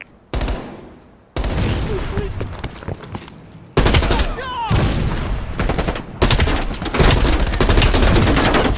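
Machine gun fire in the Call of Duty Cold War video game, loud sustained automatic bursts broken by brief gaps, mixed with battle noise and a voice speaking over the shooting.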